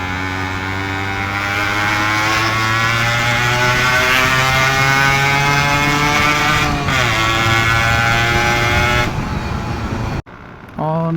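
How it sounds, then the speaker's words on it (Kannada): A Yamaha RX100 motorcycle with the glass wool gone from its silencer gives a loud, steady, buzzing two-stroke exhaust note close by, dipping briefly near the end before a short final blip. "ಗ್ಲಾಸ್ ಹುಲ್ ಖಾಲಿ ಆಗಿರೋ ಕಾರಣಕ್ಕೆ ಅಷ್ಟೊಂದು ಸೌಂಡ್ ಬರ್ತದೆ"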